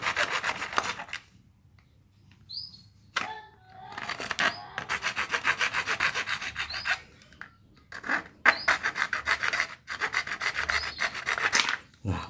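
A hand saw blade, used without its large handle, cuts through material for a hydram pump waste valve body, rapid rasping strokes in bursts separated by short pauses, close and fairly loud.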